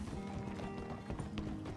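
Horse hooves clip-clopping in a western video game, a steady run of soft hoofbeats under a dense, constant background of game sound.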